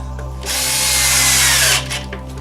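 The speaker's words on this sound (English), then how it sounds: "Screw it with the drill." A power drill whirs loudly in one sustained burst of about a second and a half, driving screws into cornhole board wood, close by, with quieter handling noises before and after.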